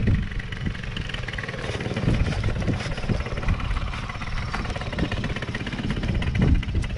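A moped engine running rough and close to stalling, a loud, close, sputtering putter that wavers unevenly throughout.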